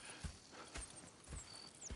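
Horse hooves clip-clop in the Red Dead Redemption video game, four distinct hoofbeats in an even walking rhythm, faint and close with no talking.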